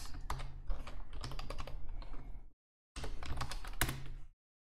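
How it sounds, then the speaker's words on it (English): Quick, close typing on a computer keyboard in Vim: a steady patter of keystrokes for about two and a half seconds, a short pause, then another burst of clicks ending in a firmer keypress. "let's type this."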